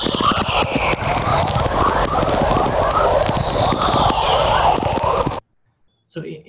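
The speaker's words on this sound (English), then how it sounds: "that's a whistler, that kind of like whooshing noise." VLF natural radio picks up electromagnetic whistlers and chorus: repeated whooshing tones sliding downward in pitch over a crackling, static-filled background, fairly loud and continuous before cutting to near silence.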